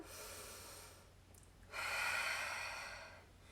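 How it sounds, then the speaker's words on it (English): A deep breath in and out during a lower-body stretch, a soft airy inhale followed after a brief pause by a longer, louder exhale, close to the microphone with no talking. "Taking 1 more big breath in and out"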